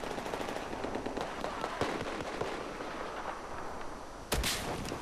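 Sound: grenade launcher firing in video game Battlefield 4

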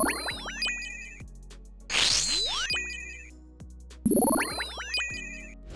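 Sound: edited RuneScape magic attack sound effect, from a video game

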